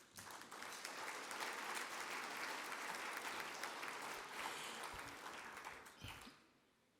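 Sustained applause from a forum audience at an event on women's rights, steady and full for about six seconds before tapering off, with a few isolated claps at the end.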